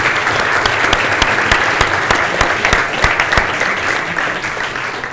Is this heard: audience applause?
yes